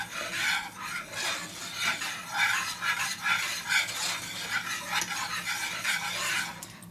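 Homemade pastry cream being stirred gently with cherry juice, a steady soft scraping and swishing of utensil against bowl in an even rhythm, close and continuous with no talking.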